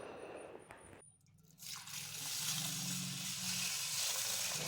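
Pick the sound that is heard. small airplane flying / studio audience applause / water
water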